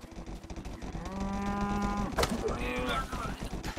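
A cow in the video game Rustler gives one long, drawn-out moo that rises and then falls away, clear against quiet in-game background noise.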